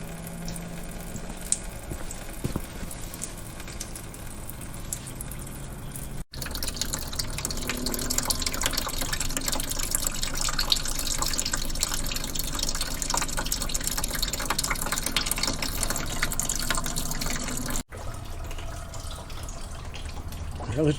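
Coolant drains out of a BMW engine during belt, hose, pulley and water pump work, a continuous splashing stream of liquid that grows louder and fuller partway through before easing off again.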